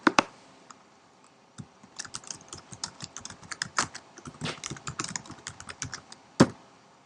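Rapid typing on a computer keyboard, close and alone, with an irregular burst of clicks at the start, then a steady stream of keystrokes and a firmer final tap.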